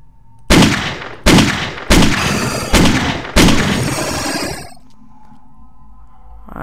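Gunshots in the video game Euthanasia: five heavy, booming shots at roughly even intervals, each with a long reverberant decay, loud and close, followed by a low ambient drone.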